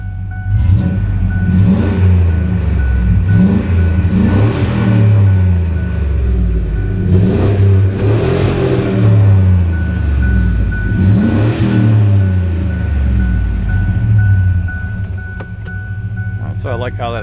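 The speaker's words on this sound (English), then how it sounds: "Got a nice rumble at idle, not too loud." A restored Ford Ranger truck with a 5.0 V8 and aftermarket exhaust gives a deep, close burbling rumble that rises and falls in pitch as the revs shift, settling back toward idle near the end.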